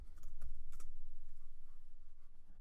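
Quick bursts of keystrokes on a computer keyboard as a folder name is typed, close and fairly quiet with no talking, the clicks bunched early and thinning out.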